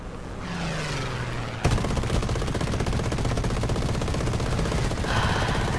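Sustained rapid aircraft machine-gun fire in the War Thunder air-combat video game, loud and continuous after a sharp onset, with engine drone underneath.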